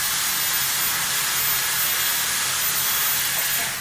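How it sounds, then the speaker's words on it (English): Dyson Airstrait hair dryer with its head closed, blowing air to dry hair at the roots, a loud steady close-up rush of hissing airflow throughout with no talking. "you're gonna close your machine, and you're just going to dry your roots like so"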